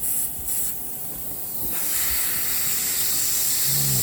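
An airbrush sprays paint onto a miniature storm giant figure, giving a steady hiss that runs through the whole clip and swells slightly louder in the second half, with no talking.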